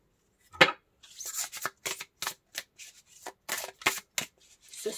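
Tarot cards shuffled and drawn during a card reading: a run of crisp, close riffling and flicking bursts in quick irregular succession, with short pauses between them, heard alone with no talk.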